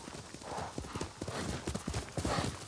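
Galloping horse hooves in the video game Ghost of Tsushima, a quick, close, repeating clip-clop pattern that stays loud and steady throughout, with light background game ambience.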